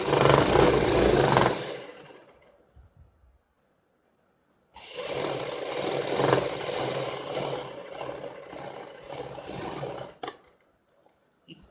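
Sewing machine stitching the side seam of a Punjabi suit: a dense, steady mechanical whir runs for about two seconds, stops during a short quiet gap, then resumes for a longer stretch before cutting off.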